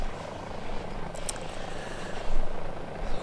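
A Eurocopter EC130 helicopter flies over Innsbruck airport, its turbine and rotor making a steady, loud, continuous drone heard from close by, with a brief click partway through and no speech.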